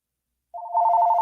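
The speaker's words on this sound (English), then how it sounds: "And the crazy thing about it, Salakia, his phone is ringing." A phone's electronic ring starts abruptly after a half-second of silence and then holds as a steady, fairly loud warbling tone close by, with no voices.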